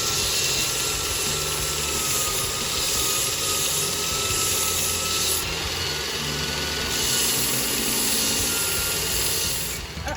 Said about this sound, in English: we're using the belt sander in order to do that